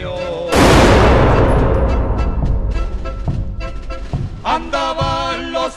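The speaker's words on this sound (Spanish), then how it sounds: "A todos en formación para empezar el combate al disparo de un cañón." A cannon booms once with a loud, sharp blast that rolls into a long rumbling decay, signalling the start of combat in a Mexican Revolution battle reenactment at Zacatecas, followed by more scattered gunfire and voices.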